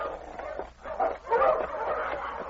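Tangled sled dogs yip, bark and whimper in excited, overlapping bursts close by, with a brief lull before a louder, busier stretch of yelping.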